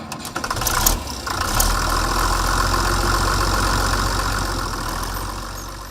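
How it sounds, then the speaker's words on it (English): A Case 930 farm tractor engine idles with a steady, low, rumbling chug that stays loud and even throughout, with no one speaking. "this has always been a good tractor. It's always dependable, starts good"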